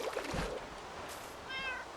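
A cat meowing in Minecraft, a couple of short, near meows over faint background game ambience, with no one speaking.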